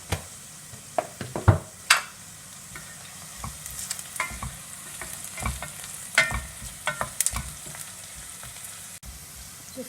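Onions sizzling in a pan with a pinch of salt, a soft steady frying hiss punctuated by repeated clicks and scrapes of a spoon stirring, close, with no talking.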